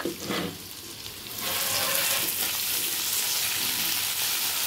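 Red amaranth greens frying in hot browning oil with salt, a steady close sizzle that swells loud after a quieter first second and holds through to the end.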